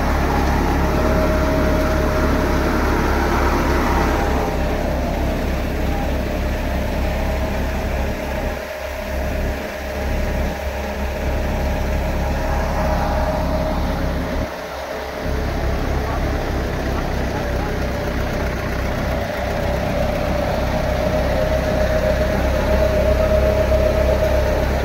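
A tractor engine drives a jugaad-built thresher, giving a loud, steady mechanical drone with a constant low hum that runs throughout, with a few short dips in level along the way.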